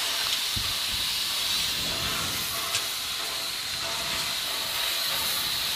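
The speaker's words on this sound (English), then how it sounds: "you hear the injector start to sing. This is on a K-class" Steam injector on a K-class steam locomotive at a railway open day, hissing in a loud continuous rush that holds steady throughout, with no talk over it.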